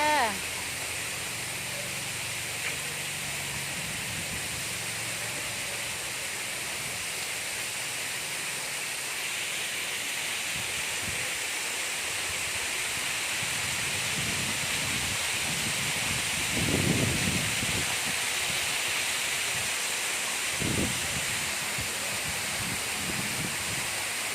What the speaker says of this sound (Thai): สวยงามไหมคะทุกคน น้ำตก